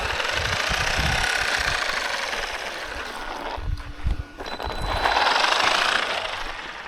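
Loud, continuous buzzing rattle from a Traxxas Maxx V2 RC truck running, with a brief dip and a couple of knocks before the harsh rattle surges back at full strength.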